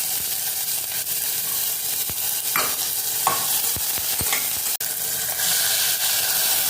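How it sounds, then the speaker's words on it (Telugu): Onion and tomato pieces fry in a little oil in a pan, with a steady sizzle and occasional stirring scrapes and clicks, close and alone. "తరిగి పెట్టుకున్న టమాటా ముక్కలు, ఇవన్నీ కొద్దిగా పచ్చివాసన పోయేదాకా వేయించుకోవాలి"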